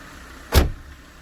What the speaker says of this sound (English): let's put down a window because I don't want to have any kind of surprises now